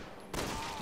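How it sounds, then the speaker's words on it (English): A short, loud burst of gunfire from Resident Evil 6 starts abruptly after a brief quiet moment and ends in a fading rattle, with no voices. "I shot the zombie in the knee and then I shot the fucking tank he was carrying"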